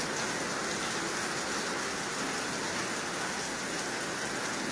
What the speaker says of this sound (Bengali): এই যে টিনের চালের শব্দ শুনতেছেন